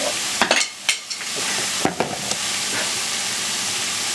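Vegetables sauté with a steady, continuous sizzle in a hot pan alongside steak and pork chops. Several sharp clatters and stirring knocks come early, and more come midway, all close and fairly loud over the constant frying hiss.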